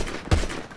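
A single sharp burst of gunfire cracks out in a shooter video game, short, loud and punchy against quiet game ambience.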